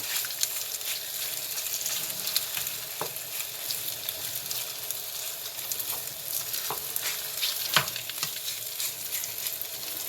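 Mongolian-style pork fries in oil in a pan on a crooked stovetop, a continuous close sizzle broken by scattered scraping and clicking from stirring.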